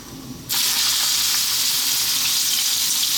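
After a brief quiet moment, a loud burst of sizzling erupts as onions hit hot oil, then crackles steadily and close.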